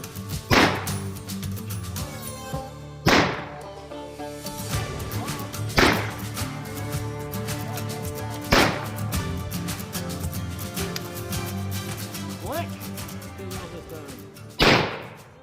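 Five sharp, loud gunshots from a modified Pietta 1851 Navy black powder revolver loaded with 27 grains of powder and no lube, fired outdoors at tree limbs, spaced a few seconds apart with ringing decay between.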